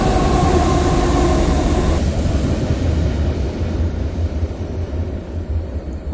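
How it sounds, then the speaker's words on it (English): A train passes right overhead, a loud, rumbling roar of wheels and cars with rattling and faint squealing, steady at first and then easing slightly as it moves on, with no talking. "there's actually a train coming by right above"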